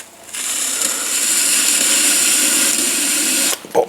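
Trimming tool scraping the clay bottom of a pot spinning on a pottery wheel, a steady loud hissing rasp for about three seconds that stops abruptly, followed by a couple of brief knocks.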